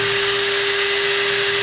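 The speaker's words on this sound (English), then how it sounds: "I'm gonna drill this, and I've got to get it into the stud" A power drill whines at a steady, high pitch, driving at an angle through sheetrock into a stud, running continuously and close by with no talking.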